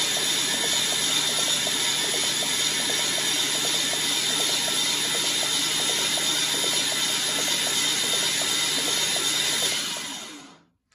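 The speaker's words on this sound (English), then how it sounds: "apply 12 volts, roll the engine over, and see how we're doing" A 1976 Corvette's swapped LS engine cranks over on the starter with its spark plugs removed, a fast, even whirring churn that runs steadily and loudly for about ten seconds before winding down and stopping, with no talking.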